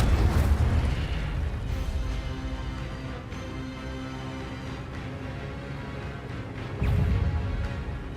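An Incendio fire spell cast in Hogwarts Legacy, a booming burst of flame that roars and slowly settles into a sustained rumble, with a second blast near the end.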